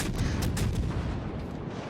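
Cruiser guns fire in World of Warships Legends, a dense series of heavy low booms rolling together at close range over a couple of seconds, with no one talking.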